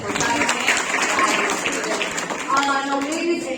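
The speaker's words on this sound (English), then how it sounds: "Clap for Alvita." Crowd clapping for a prize winner named Alvita at a secondary school closing ceremony, steady applause from the audience mixed with voices chattering underneath.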